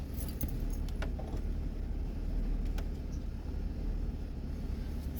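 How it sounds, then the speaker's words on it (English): A 2006 Ford Taurus with an engine misfire, idling as a steady low rumble, with a few faint metallic clicks over it. "So I'm gonna leave the car running."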